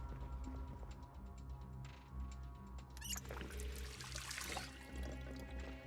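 Water pours into a container in the survival game Project Zomboid: a soft, quiet trickle that swells into a fuller splashing pour midway, then settles again.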